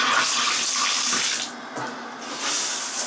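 Water runs steadily from a household faucet after a low-flow problem was fixed, a close, continuous hiss and splash that dips briefly in the middle before resuming.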